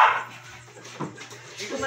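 Dogs at a home with visitors bark in a few short yips and whimpers, mixed in with people talking nearby.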